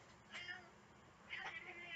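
Two insistent cat meows, one shortly after the other, heard fairly close in a quiet indoor space.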